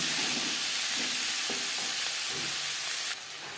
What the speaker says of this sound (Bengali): চার পাঁচ মিনিট পেঁয়াজ ভেজে নেওয়ার পর